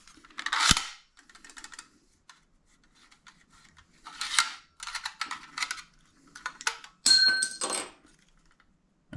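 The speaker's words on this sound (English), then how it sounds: "So press this lever down, loads your" Nails are loaded into a Bostitch SB-1664FN 16 gauge finish nail gun, with a string of sharp metallic clicks, snaps and clacks that come close and irregular, with quiet pauses between them and no talking.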